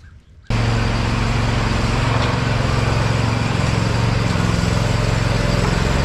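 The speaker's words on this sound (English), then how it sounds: "So first I need to get all the mowers that are in there out" A lawn mower engine bursts into a loud, steady run after a brief quiet start, holding a constant drone in a shed with snow falling outside.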